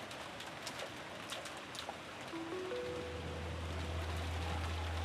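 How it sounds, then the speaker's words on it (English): Soft, steady rain falls in the visual novel game Umineko When They Cry, a faint continuous hiss of drops with a few brief tonal notes and a low hum swelling beneath it toward the end. "Then she started walking out into the rain"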